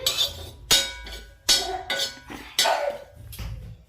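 A utensil stirs a hot pan on a stove that has been switched off, giving about six sharp metallic clinks and scrapes at an irregular pace, loud and close, with no speech.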